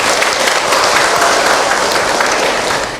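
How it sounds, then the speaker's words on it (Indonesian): Audience applause fills a religious lecture hall, dense and steady clapping from the congregation at a sermon, loud and sustained throughout before tapering slightly at the end. "Tepuk tangan atau buat kita semua"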